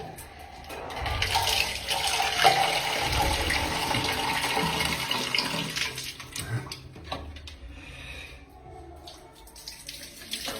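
Water runs steadily from a tap while someone washes at a mosque, a continuous splashing flow heard close and fairly quiet, with faint background noise and no clear speech.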